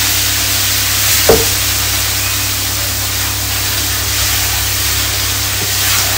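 Masala sizzling in oil left over from frying potatoes, a steady hissing fry with a brief clack of a utensil early on, loud and continuous without talk.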